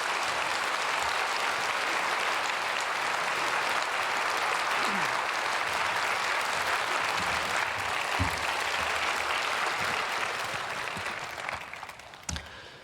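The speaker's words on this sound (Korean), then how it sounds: "박수로 맞이하겠습니다." Church congregation at a Wednesday prayer service applauds to welcome a visiting pastor, a long steady wash of clapping that holds evenly and then tapers off toward the end.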